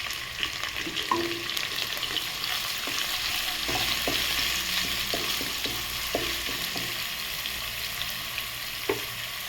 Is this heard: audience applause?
no